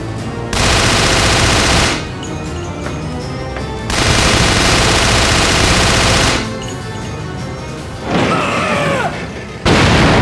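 Heavy automatic gunfire aimed at a crane in Resident Evil: The Darkside Chronicles, loud sustained bursts of rapid shots broken by short pauses, with game effects and a sweeping tone heard between the volleys.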